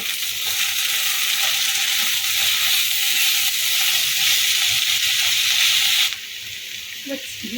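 Steady loud sizzling of prawns frying with potato and eggplant in a pan, with faint stirring scrapes, then a sudden drop to quieter crackling near the end.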